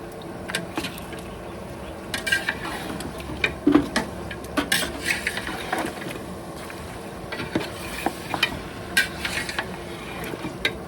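A spoon scrapes and knocks against a pot while stirring chicken curry, a hotel-style batch for 30 people, in a steady series of irregular clattering strokes over a low cooking background.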